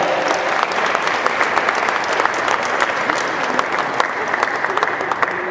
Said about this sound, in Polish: Wielkie brawa dla Janka.